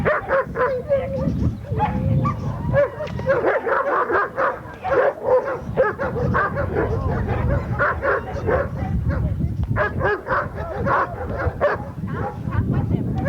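A dog barks repeatedly and yips excitedly during prey drive training, loud and close, with bursts of barking and whimpering mixed with people talking throughout.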